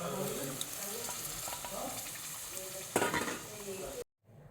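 Roasted chicken masala spice mix tipped into a hot frying pan and stirred, a steady close sizzle with scraping stirs throughout and a brief louder burst near the end before it cuts off.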